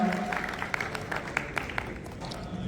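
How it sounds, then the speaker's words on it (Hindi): Applause from a seminar audience of dairy farmers welcoming a HAFED general manager, a brief dense patter of clapping with a few sharper claps, a voice briefly audible at the start and end. "जोरदार तालियों से मदन जी का स्वागत।"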